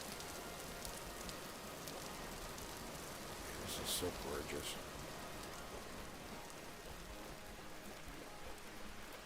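Steady rain falls in the video game Vintage Story, a soft continuous hiss of drops on surfaces throughout, with a brief brighter patter near the middle and a person speaking briefly over it.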